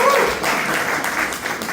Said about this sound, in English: I'm so glad that somebody has a spontaneity to applaud